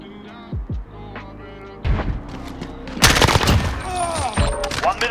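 Rapid 9mm M4A1 rifle fire in a multiplayer shooter game, crackling bursts layered with explosive booms and busy game effects, loud and close, some voice chatter mixed in.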